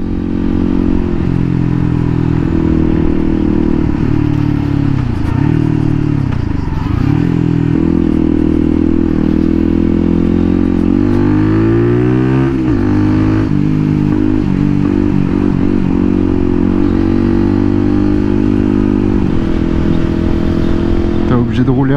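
Zontes Roadster R 125 motorcycle fitted with a new exhaust line, riding on the road with a loud, continuous engine drone that rises and falls with throttle changes and wind noise throughout.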